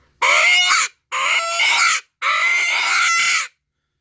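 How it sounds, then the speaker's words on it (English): A J.C. Calls coon squaller blown as a straight single-blow squall gives three loud, raspy, wavering squalls, each about a second long, separated by short silences with no talk. "This is the straight single blow squall"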